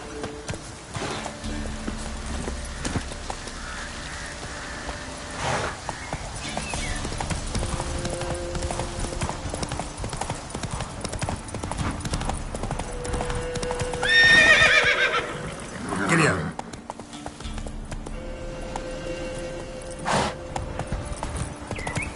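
Geralt's horse Roach galloping in The Witcher 3 on PS5, steady rapid hoofbeats running across the whole stretch, with a loud neigh midway and game ambience underneath.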